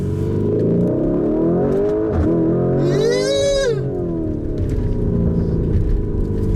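2019 Lamborghini Urus SUV engine accelerating, a smooth rising whine and roar that climbs and dips as it gains speed, heard from inside over road noise.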